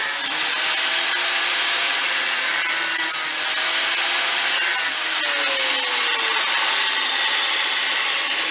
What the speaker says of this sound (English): I'm gonna start with the angle grinder and just with the cutoff disc start cutting